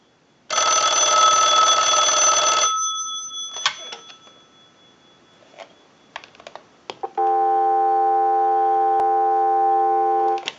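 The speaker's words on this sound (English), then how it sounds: "we'll give you some dial tone" After one last ring burst from a Northwestern Bell Trimline telephone come scattered clicks and beeps, then a steady, continuous dial tone hums loudly to the end.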